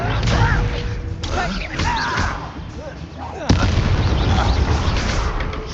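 Levioso spell cast in Hogwarts Legacy, a sharp whip-like magical crack with a burst partway through, heard amid busy game combat effects and background voices.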